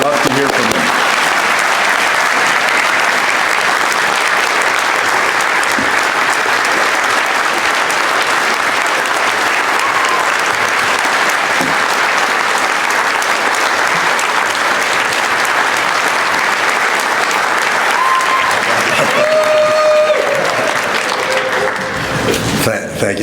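Sustained loud audience applause welcoming Professor C. Paul Rogers III to the podium for a lecture, a steady dense clapping that carries on for over twenty seconds before tapering off.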